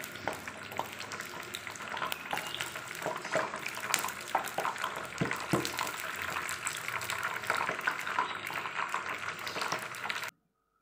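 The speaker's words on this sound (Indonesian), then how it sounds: "kita goreng lagi sisanya sampai adonannya habis" Battered cempedak fruit sizzles in hot oil with a steady, dense crackle that runs continuously at close range and then cuts off abruptly near the end.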